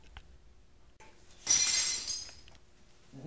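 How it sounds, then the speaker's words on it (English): Glass breaks and shatters in one loud burst with a bright crash and tinkling debris that trails off over about a second, preceded by quieter handling noises. "another video part of why you should not be breaking glass"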